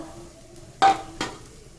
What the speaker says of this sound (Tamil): ஊற்றிட்டு கிண்டிகிட்டே இருக்கணும் இல்லைன்னா கட்டி கெட்டி ஆயிரும்